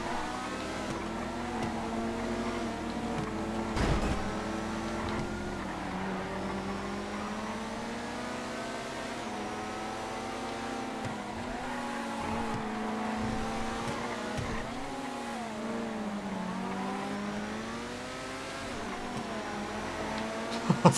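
An Itali GTB supercar engine in GTA FiveM drones steadily at high revs, its pitch rising and dipping with gear changes and throttle shifts over about twenty seconds, close and continuous with no talk.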